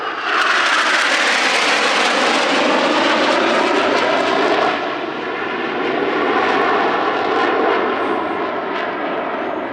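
Jet aircraft roaring overhead at the Radom Airshow in Poland, a loud, sustained broadband engine rush that swells and shifts in pitch as it passes, steady throughout with no talk.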